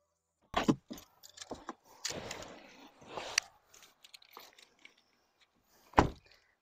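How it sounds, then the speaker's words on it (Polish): Car keys jangle, and someone gets into a 2019 Volvo V90 estate car. Short rustles and handling noises come in bursts, and a sharp thunk lands near the end, likely the door shutting. "Więc biorę kluczyki, wsiadam do samochodu i testujemy."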